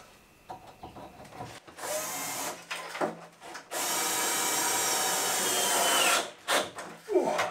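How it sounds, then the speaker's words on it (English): A power drill drives screws into a coldroom wall, several short whirring bursts and one long steady run of about two and a half seconds, close and loud, with rubbing and handling noises between. "So just fixing the screws in situ."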